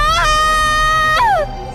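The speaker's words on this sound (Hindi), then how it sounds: "लेकिन अगले ही पल उसकी बीवी चिल्ला उठी" A woman screams in a dramatic story scene, a loud, high, sustained cry that rises and then falls sharply in pitch before fading, over a steady background.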